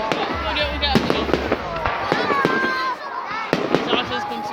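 Fireworks fired from a rocket launcher in the video game GTA 5: repeated sharp bangs and crackling bursts at irregular intervals, loud and close, with whistling trails between the blasts.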